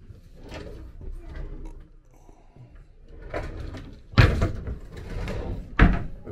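Wardrobe doors in a Rhodes holiday bedroom are handled close up: scattered rattles and scrapes build to two sharp wooden knocks as the doors swing and bang shut.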